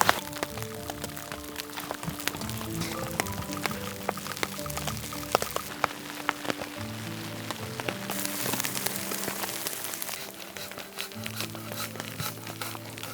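Steady rain pattering and drumming on a surface nearby, with irregular drips and splashes throughout and no voices, during a thunderstorm at a forest campsite.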